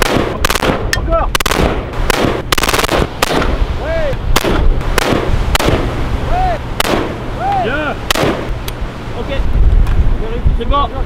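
Loud bursts of automatic gunfire from a weapon fired during French Navy training, sharp repeated cracks in rapid volleys with brief pauses, close to the microphone with wind noise and occasional voices in between.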